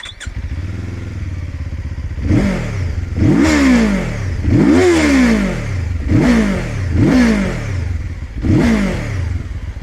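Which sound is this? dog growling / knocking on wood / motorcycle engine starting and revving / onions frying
motorcycle engine starting and revving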